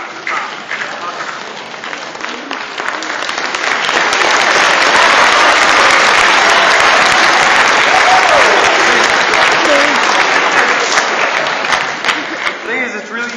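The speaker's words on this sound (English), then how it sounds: "it's really easy to listen to that applause" A large keynote audience at a youth summit bursts into applause that swells after a few seconds into a loud, sustained roar of clapping from the whole room.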